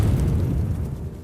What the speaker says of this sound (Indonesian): Lalu tiba-tiba terdengar suara ledakan dari desa.